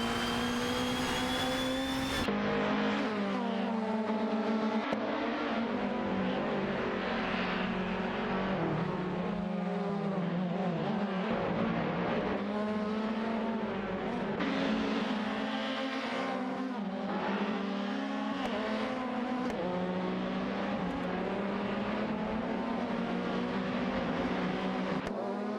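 Race cars, including a Seat Leon and a Peugeot 407, in an AI-driven racing video game scream past with high engine whines that rise and fall through gear changes, several cars overlapping continuously and loudly without commentary.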